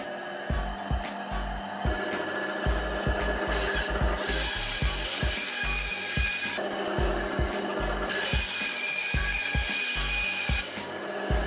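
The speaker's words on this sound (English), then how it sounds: "I decided to tilt the table to 35 degrees and cut off a couple of the corners" A saw cuts corners off a wooden puzzle cube with the table tilted to 35 degrees, giving a loud, steady rasping buzz with short repeated strokes throughout and no voices.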